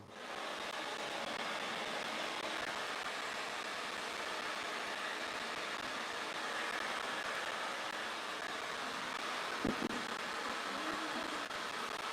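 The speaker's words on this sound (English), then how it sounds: "Blow drying, blow drying." A hair blow dryer runs continuously at a steady, close, broadband whoosh for the whole stretch, with a brief knock near the end and no talk.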